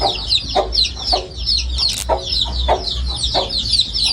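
Dense, continuous high-pitched cheeping from many chicks close by on a farm, with occasional louder clucks and rustling underneath.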